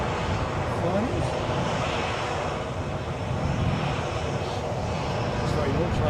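easyJet Airbus A320 jet on final approach into Edinburgh, arriving from London Luton, a steady broadband roar that holds loud and even throughout with a voice talking over it.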